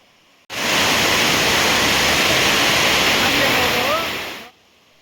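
Rainy-season waterfalls on the path to the Jwala Narasimha temple at Ahobilam: a loud, steady rushing roar of falling water that starts abruptly, holds for about four seconds and then cuts off.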